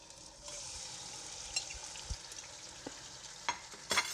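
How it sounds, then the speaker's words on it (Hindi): Chicken pieces dropped into hot oil left from frying onions, a steady hiss of sizzling that swells after a quiet start, with scattered clinks and scrapes of stirring, nearby with no talking. "उसी में मैं अब ये चिकन डाल लूँगी। चिकन डाल के फ्राई कर लेंगे।"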